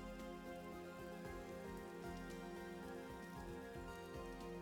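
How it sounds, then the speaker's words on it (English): Rain falling in the video game Vintage Story, a steady, even hiss that runs the whole time beneath sustained tonal background music, with no voices. "Okay, it's raining over here specifically"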